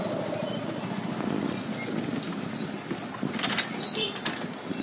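A Bengawan passenger train crosses an unguarded level crossing in Kebon Pring village, Arjawinangun, Cirebon. The wagons give a steady, close rumble broken by thin, high wheel squeals, with no talking.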